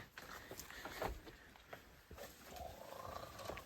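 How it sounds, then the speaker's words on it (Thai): Low, growling roar like a tiger's, heard from inside a cave, with rumbling bursts rising and falling over rough background noise and footsteps, moderately close. "เสียงเหมือนเสือ"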